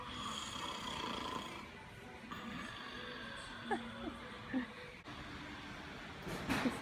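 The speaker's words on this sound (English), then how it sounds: "I don't know if you can hear that, but the snoring." Low, rough snoring rises and falls faintly in the background amid a dull ambient rumble, with a few soft clicks.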